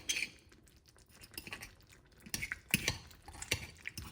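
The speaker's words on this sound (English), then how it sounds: "I'd rather just take the time out and shred it here in the pan, this little pot here" Utensils scraping and clinking against a small pot while cooked chicken is shredded by hand, a scattered run of close metallic taps and scrapes, louder toward the end, with no talking.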